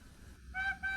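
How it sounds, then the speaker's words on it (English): A sound-fitted Rapido model E1 0-6-0 tank engine gives a short, high whistle toot twice in quick succession, clear and fairly close, over a low steady hum. "F4 is the short whistle."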